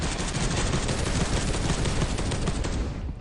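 Dense, rapid automatic gunfire in the Space Hulk game, loud and close with a continuous rattling burst over about three seconds before tailing off, no talk over it.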